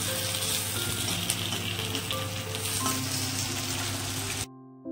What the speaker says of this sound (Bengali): আলু তো ভাজা হয়ে গেছে